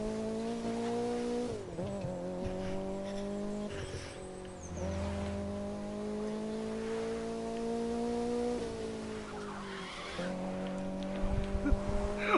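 A car in The Crew video game drives with a steady, loud engine drone that drops and climbs again through several gear shifts, with tire squeals and skids breaking in near the end.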